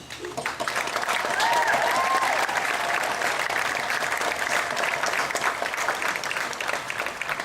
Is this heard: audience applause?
yes